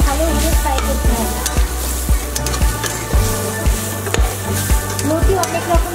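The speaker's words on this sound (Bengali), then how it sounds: "এবার এটাকে ভালোভাবে ফ্রাই করতে হবে।" Kochur loti, taro stolons, fry in a pan with a loud, close sizzle punctuated by regular rhythmic knocks of a spatula stirring against the pan, with no talking.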